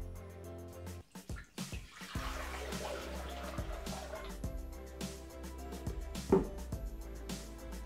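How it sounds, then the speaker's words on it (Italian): Water pours into a Thermomix TM6 mixing bowl in a kitchen: a steady splashing, gurgling stream that starts after a few clunks of handling and runs to the end, moderately close and without talk. "versiamo all'interno l'acqua"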